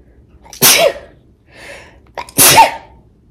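Two sharp sneezes a little over a second apart, each a loud burst of breathy noise, with a softer breath between them.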